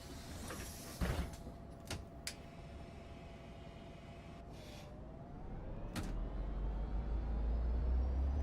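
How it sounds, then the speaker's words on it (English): Berlin city bus doors in OMSI 2 hiss and thump shut over a low idling engine, with a few clunks and pneumatic bursts early on, before the engine swells louder near the end. "So let's shut those doors"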